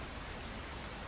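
Steady rain falling on a roof, a dense, even wash of drops with no breaks, close and continuous throughout.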